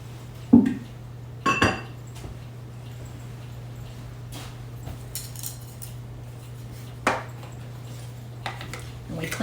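Dishes and utensils clink now and then while baking supplies are cleared away after sugar cookie making, with a few sharp knocks and rattles over a steady low hum and quiet kitchen room tone.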